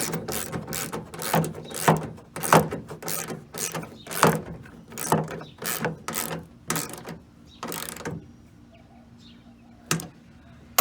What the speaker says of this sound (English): I'm just gonna go ahead and tighten up the 13mm bolts for the actual tailgate handle so I know it's secure